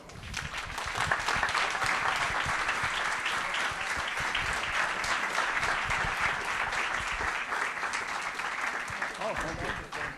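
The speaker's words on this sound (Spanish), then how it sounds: "espero que recibáis con un caluroso aplauso a Bradley Nelson" A conference crowd gives warm applause welcoming speaker Bradley Nelson, a loud, sustained wash of many hands clapping that rises quickly and holds steady for about ten seconds.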